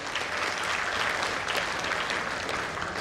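A large audience applauding at an apartment launch celebration night, a dense, even wash of clapping sustained throughout at moderate distance.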